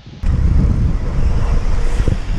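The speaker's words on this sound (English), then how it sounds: "It's super windy" Strong gusting wind buffeting the microphone outdoors in Amsterdam, a loud continuous low roar that starts abruptly and stays heavy throughout, with no voices over it.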